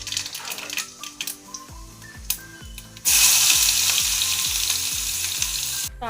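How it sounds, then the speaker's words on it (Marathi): Mustard seeds and cumin crackle and pop in hot oil in a pan, then chopped onion goes in and a loud, dense, continuous sizzle takes over for the rest of the clip. "आता हे तेलामध्ये आपण मोहरी, जिरे टाकून घेऊ आणि कांदा परतून घेऊ"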